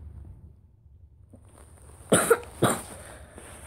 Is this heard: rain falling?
no